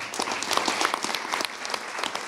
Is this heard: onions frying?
no